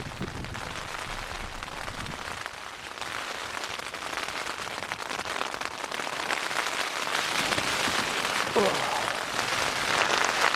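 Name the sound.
heavy rain hitting a tent at night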